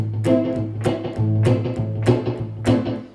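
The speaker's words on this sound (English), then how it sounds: "bar chord type style chords if you want to do that kind of" Strummed guitar bar chords in a tight, choppy swing rhythm, each short stroke clipped off quickly, played alone at steady moderate volume.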